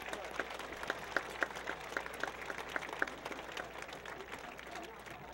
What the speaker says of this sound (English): let's give a round of applause to your parents and guardians